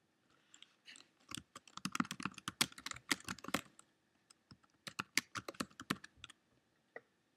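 Fingers tap on a computer keyboard: fast, irregular runs of light clicking keystrokes in two bursts separated by a brief pause, close but quiet, with no voice.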